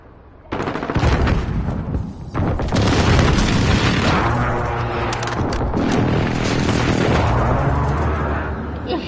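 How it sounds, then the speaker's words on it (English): Precision airstrike explosions in Call of Duty Modern Warfare co-op arrive as a sudden loud boom, followed by sustained rumbling blasts and rattling gunfire that continue heavily throughout. "Enemy precision airstrike inbound."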